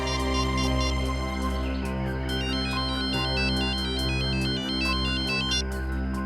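A phone ringtone plays steadily and loudly on its own, a repeating bright electronic melody over a constant buzzing tone, with no voices.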